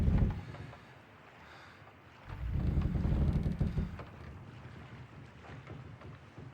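A boat sailing on open water in The Witcher 3 video game, with low rushing wash and wind swelling strongly near the start and again through the middle, then easing to a softer steady drift.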